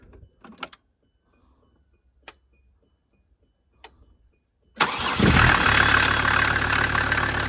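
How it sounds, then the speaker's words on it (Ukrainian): A few faint clicks and ticks as glow plugs warm, then a SsangYong OM662 2.9 turbo five-cylinder diesel engine cranks and catches, settling into a loud, steady idle that runs to the end. "От двигунчик. Рівненько робить."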